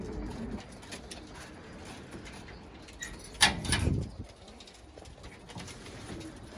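Ardüzen pigeon chicks coo softly in a loft amid low rustling, with one louder, brief burst of sound near the middle before it settles back to a faint hum.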